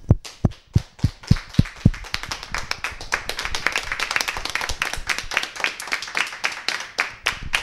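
Studio audience at a Christmas TV quiz show breaks into clapping, starting with a few sharp, spaced claps that quickly swell into steady, dense applause from many hands, fairly close and continuing throughout without speech.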